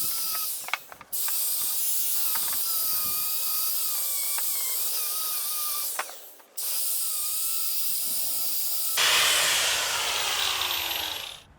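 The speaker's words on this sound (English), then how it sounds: "I'll be using several of the Osborne abrasives, very high quality wire wheels and brushes to strip this vise" Osborne wire wheel grinding and stripping a Wilton vise, a steady loud hiss with brief pauses and a shift in tone near the end as the brush moves over the metal.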